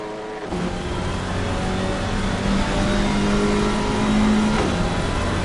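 Alpine race cars lapping the Hungaroring circuit in a one-make Supercup race, a loud continuous engine drone with shifting pitch as several cars run close together, no talk.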